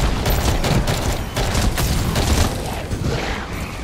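Heavy video game gunfire pours out in a dense, continuous fusillade of overlapping shots and booms, loud and close throughout.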